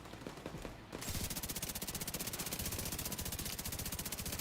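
Rapid, continuous bursts of laser-weapon gunfire in The Division 2, a fast even rattle starting after a brief quieter moment and running steadily to the end.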